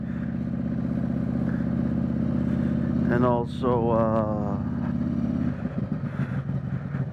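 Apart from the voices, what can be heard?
Harley Davidson Road Glide Special Stage II engine warming up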